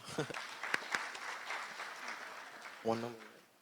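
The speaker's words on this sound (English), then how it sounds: "Round of applause for Ms. Charlotte Gabriel." A crowd at a youth awards ceremony claps steadily for a few seconds, fairly distant and soft, before a voice begins speaking over the fading applause.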